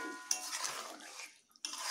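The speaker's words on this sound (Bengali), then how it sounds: "দিয়ে এইভাবে একটু নেড়ে নিচ্ছি।" A spoon scrapes and clatters against a pan while chili chicken with split green chilies is stirred, a few short, faint scraping sounds with brief pauses.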